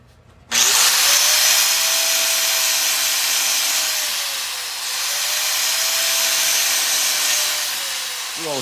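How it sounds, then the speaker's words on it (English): A power grinder smooths out a weld, running loud and steady for several seconds after a sudden start, with its pitch dipping and recovering as it bears into the metal. "Just hit it and just grind this out, and that's gonna make the transition smooth"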